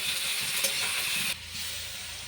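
Vegetables fry in a pan with salt and spice powder, giving a steady, fairly loud hiss and sizzle that drops slightly in level partway through, with no talking.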